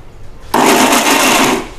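A mixer grinder blends raw mango with amaranth leaves for chutney. After a quiet moment it starts suddenly into one loud, close whirring burst that runs just over a second before stopping abruptly.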